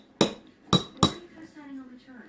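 Metal spoon striking a container three times in quick succession while coconut oil is scooped, bright ringing clinks up close, followed by a person speaking softly.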